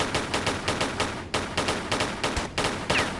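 Rapid automatic gunfire from the Tomb Raider II video game rattles in repeated bursts of sharp shots with short pauses between, steady and fairly loud, with no talking.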